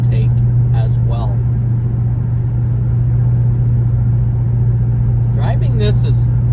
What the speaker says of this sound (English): I really like vehicles with a good intake noise